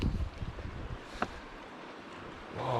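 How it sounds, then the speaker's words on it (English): Wind and waves of the Atlantic Ocean off Islay, Scotland, heard as gusty wind buffeting the microphone over a low, rolling surf, with a brief sharp knock midway, fairly faint and continuous. "I think this is the Atlantic Ocean out here"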